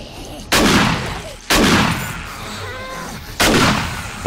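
Automatic turrets fire in 7 Days to Die during a horde night, three sharp loud blasts spaced about a second or two apart, each trailing off into a reverberant decay.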